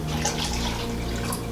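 Water pouring into a flower vase during flower arranging, a steady continuous splashing trickle close by with no talk over it.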